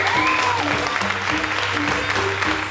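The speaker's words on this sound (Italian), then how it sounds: "E adesso un altro fortissimo applauso per il nostro patron Alessio Forgetta," An audience applauds at an Italian beauty pageant event, a dense, steady burst of clapping that stays close and loud, with some music tones running underneath.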